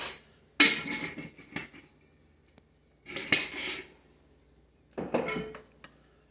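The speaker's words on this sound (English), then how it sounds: "I'm going to kind of hand mix all this right about there" Chipotle sauce ingredients, including brown sugar, being hand mixed in a bowl make three separate bursts of scraping and clinking against the bowl, with quiet pauses between them.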